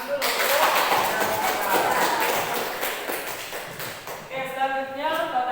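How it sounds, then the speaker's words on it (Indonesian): Students in a classroom clap together in a quick burst of dense hand claps, fairly close, that fades into a teacher's voice. "Tepuk tangan dulu"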